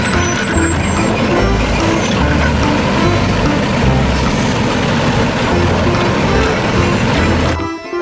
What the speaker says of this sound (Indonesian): Yang ini ada mobil pengangkut sampah